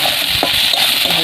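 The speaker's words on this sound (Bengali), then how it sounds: "ভালো করে ভেজে নেব।" Frying and stirring in a pan while cooking a banana flower dish: a loud, continuous sizzle with a short scrape of the spatula partway through.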